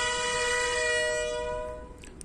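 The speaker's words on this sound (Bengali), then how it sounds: "হর্ন দিচ্ছে শুনতে পাচ্ছেন," A loud, steady horn blast sounds at a ready-mix concrete plant, holding for over a second before trailing off into background noise.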